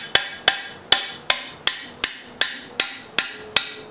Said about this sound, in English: Hitting it in with the magic hammer.